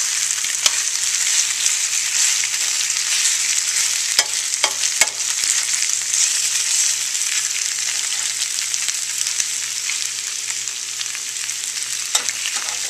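Onion frying in a pan for a beef dish, a steady bright sizzle running unbroken with occasional soft stirring taps and scrapes, close and fairly loud, no voices.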